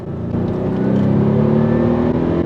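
An Aston Martin V8 Vantage AMR engine drones steadily and loudly, with a rising rev under a constant rumble, close up with no voices.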